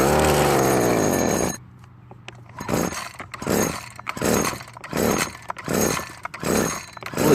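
Husqvarna string trimmer with a suspected carburetor problem being pull-started: a brief engine run cuts out, then repeated rhythmic starter pulls and sputtering attempts follow, close and fairly loud.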